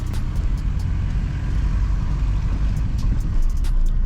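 Steady low engine rumble and road noise from inside a car on a long drive, loud and continuous with no talking.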